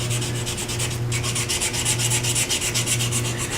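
Sandpaper rubbed steadily across a wooden pen blank on a lathe, a close, loud, hissing rasp that swells and dips in a regular back-and-forth rhythm with no voices.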